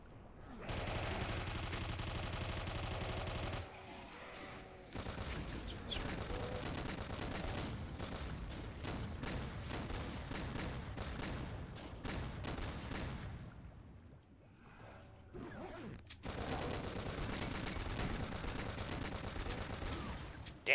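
Gunfire in the video game Doom on the Nihility wad, dense and loud rapid shots roaring almost continuously, with brief gaps where the firing stops.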